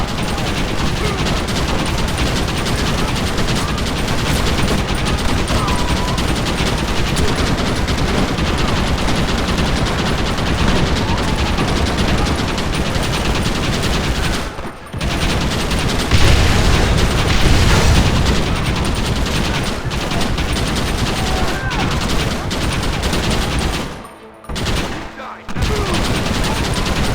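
Rapid, sustained Gatling gun fire in the video game Red Dead Redemption, loud and continuous with booming blasts layered in, broken by two brief pauses near the end.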